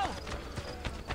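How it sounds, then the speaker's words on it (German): An armored horse galloping in the Assassin's Creed Brotherhood video game, with soft rhythmic hoof clip-clops at a quick regular pace, fairly faint and close together. "Voll gepanzertes Pferd und so, geil."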